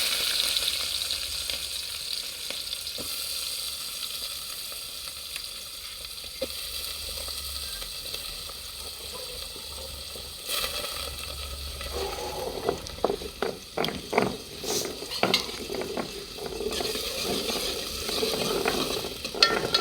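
Green chillies fry in hot oil in a pan for a dry prawn curry, a steady close sizzle and crackle with occasional stirring scrapes and spattering pops growing busier near the end.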